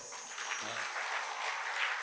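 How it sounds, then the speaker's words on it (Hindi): A devotional gathering claps loudly and steadily during a religious discourse, a continuous wash of many hands. "आज तो बड़ी जोरदारी से तालियां बजा रहे हो"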